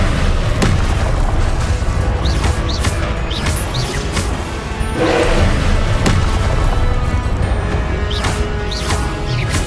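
Confringo blasting spell in Hogwarts Legacy, a dense run of loud booms, crashes and sharp impacts repeating every second or so during spell-heavy combat, with no clear talking.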